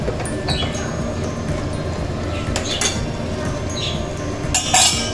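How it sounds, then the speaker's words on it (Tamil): Boiled eggs are added to a pot of Tamil-style egg gravy and stirred, giving light metallic clinks and scrapes of a spoon against the pot, close by and fairly steady, with no talking. "இப்போ அடுத்து நான் முட்டையை சேர்க்க போகிறேன்"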